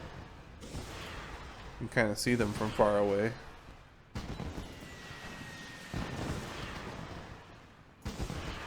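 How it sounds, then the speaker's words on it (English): Fireworks in World of Warcraft, with soft distant pops and crackles under someone talking, plus a brief bright musical chime partway through. "Let's get some regular fireworks here."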